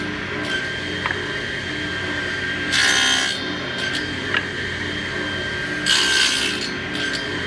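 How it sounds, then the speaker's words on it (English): Wood being cut to form a rabbet on the end of a piece, with two short, rasping cutting bursts over a steady shop hum and faint intermittent clicks. "Let me show you what it looks like to have a rabbet on the end of a piece of wood on all four sides"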